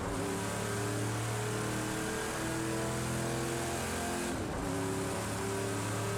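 Camaro Z/28 engine in the racing game Project Cars 2, a steady, loud mid-pitched drone with layered harmonic whine, holding revs throughout with a brief dip and shift around the middle before settling back.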